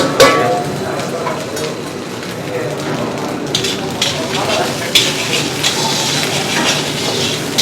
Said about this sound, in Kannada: ಕಾಯಿ ಮತ್ತು ಗೋಡಂಬಿ ಇವೆರಡು ಫಸ್ಟೇ ಹಾಕ್ಕೊಳ್ಳೋದ್ರಿಂದ ಅದು ನೀಟಾಗಿ ರೋಸ್ಟ್ ಆಗುತ್ತೆ